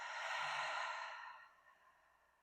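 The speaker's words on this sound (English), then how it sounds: "Nice big exhale through the mouth." One long, soft breath pushed out through the mouth during a yoga cool-down, a breathy whoosh that is fullest at the start and tapers away over about two seconds, heard close and alone.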